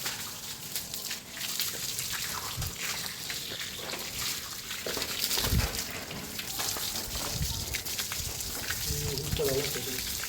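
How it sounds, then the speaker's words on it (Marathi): A spray of water rinses soap lather off a cow, a continuous hissing splash running the whole time, with a voice talking over it. "नुसतं पाणी मारा."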